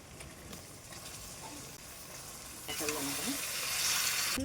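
Chicken pieces added to a pan of spiced oil, frying with a steady sizzle and hiss that grows louder toward the end, heard near and without talk.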